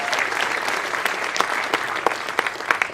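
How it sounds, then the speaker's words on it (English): Audience applause at an awards ceremony, a dense sustained clapping from a full room with a few sharper claps standing out, continuing steadily throughout without talk. "Another round of applause for Joe"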